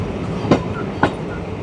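A Chennai Beach local train rolls past, a continuous rumbling rush broken by two sharp rail clacks about half a second apart, fairly close.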